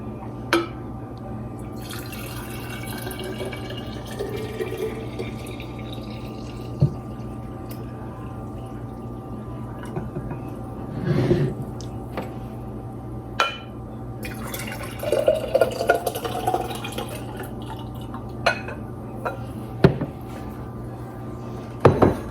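Warm homemade apple cider poured into a mason jar, a soft trickling fill with scattered clinks, drips and knocks against a steady background hum.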